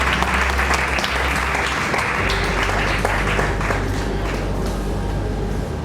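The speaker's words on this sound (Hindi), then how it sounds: "एक जोरदार तालियों की गड़गड़ाहट के साथ आमंत्रित किया है रविंद्र मिगलानी जी।" Thunderous audience applause welcoming a speaker onto the stage at a Chamber of Industries & Services event in Saharanpur, loud, dense and sustained clapping that fills the whole stretch without letting up.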